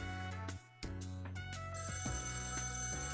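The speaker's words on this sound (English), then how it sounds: "And thus, the phone rang." A telephone in a video game rings with a musical, tonal pattern, bright repeating notes over a sustained melody, loud and close with no speech.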